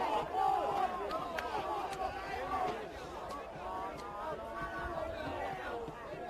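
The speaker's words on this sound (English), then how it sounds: "And the crowd are calling for consequences." Schoolboy rugby league crowd at a Bass High versus St Gregory's College match, a broad mass of shouting and calling voices rising and falling throughout, loud and close-miked, with cheering swells and occasional sharp knocks.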